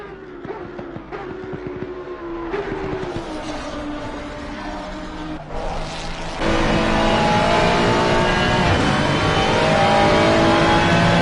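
GT3 race car engines at Bathurst in a racing video game, with an onboard Ferrari engine revving up through gears in rising and falling sweeps, then a louder, denser engine roar that holds to the end.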